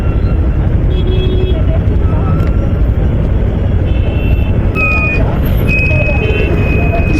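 Road traffic passes around a motorbike ride during a busy hour on a local market road, a steady loud rumble of engines and wind buffeting throughout, with faint horn-like tones near the end.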